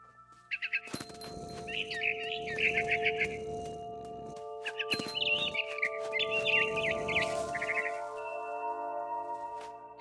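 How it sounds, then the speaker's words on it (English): A barn swallow chirps in a video game, giving repeated bright, twittering bursts in two main clusters over a sustained musical drone, close and clear, with no talking. "Then I heard chirping outside my window. It was a barn swallow going back to her nest."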